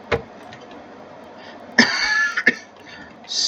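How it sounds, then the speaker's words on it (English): A person coughs several times close to the microphone in a quiet room, with sharp separate bursts including a longer throaty fit, followed by a brief higher-pitched noise. "Stupid cough."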